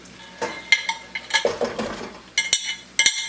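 Brussels sprouts are stirred through oil in a pot on medium-high heat, giving close scraping, clinking strokes of a utensil against the pot in irregular bursts over a faint sizzle.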